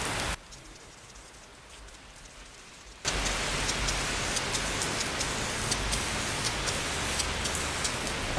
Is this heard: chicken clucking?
no